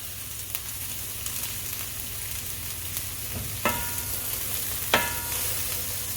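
Food sizzles and fries steadily in a pan on a home stove, a constant crackling hiss with a couple of louder pops and clanks of a utensil stirring partway through; no one speaks.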